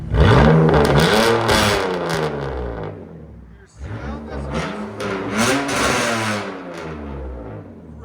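A BMW Z3 with a 3.0-litre inline-six and a straight-pipe exhaust revs hard twice, each loud, raspy climb falling away before rising again, close by, with people talking over it.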